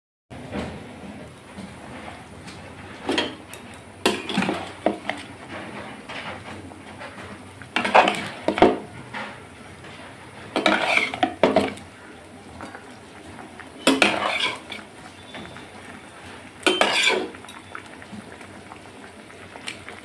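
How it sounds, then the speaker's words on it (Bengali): Fish curry masala, a ground onion and garlic paste with garam masala, is stir-fried in a pan, giving a bubbling, spattering cook beneath repeated loud bursts of scraping and clattering from the spatula against the pan. No one speaks. "এবার ভালো করে কষে নিচ্ছি, কষে নিয়ে জল দিয়ে দেবো।"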